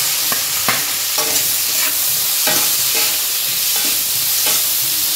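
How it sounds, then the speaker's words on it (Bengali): Onions frying in oil in a pan, browning until red, a steady loud sizzle with periodic stirring scrapes of a spoon against the pan, close up and without talk. "এবার পেঁয়াজটা লাল করে ভেজে নেব।"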